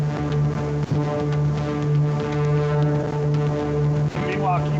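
A synthesizer patch with a slowly modulated filter and a delay effect, played from a Tetrapad controller, holds a steady, buzzy harmonic drone throughout. Its tone shifts gently with a brief dip near the end.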